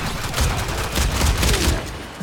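Continuous loud rapid gunfire from a gun in Warframe, dense overlapping shots with heavy low thuds running through the whole stretch without a break.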